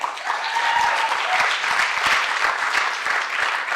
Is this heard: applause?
yes